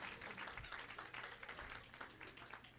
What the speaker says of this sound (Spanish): Músicos, aplaudan.